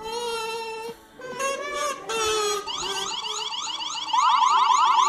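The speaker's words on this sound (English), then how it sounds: "There's the siren in the back." Siren from a Wyze Cam v3 security camera sounding nearby, starting with steady tones that jump in pitch, then switching to a rapid repeating sweep that grows louder toward the end, no talking.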